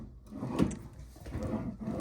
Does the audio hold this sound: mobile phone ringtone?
no